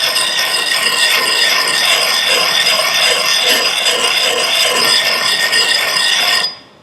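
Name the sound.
blade rubbed in circles on a round sharpening stone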